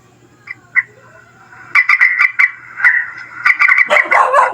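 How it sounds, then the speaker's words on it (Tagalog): Electronic bird calls played from an amplifier as a lure for trapping birds, repeated sharp chirps and whistles in quick bursts, loud and slightly distorted, with a low hum beneath. "ganito yung ginagamit nilang patunog para uh, humuli ng ibon"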